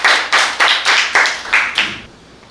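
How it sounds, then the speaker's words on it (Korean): A small group claps in unison at a community meeting, about seven crisp, evenly spaced bursts of hands that stop abruptly, leaving a quiet room. "그럼 박수 한번 쳐주시고요."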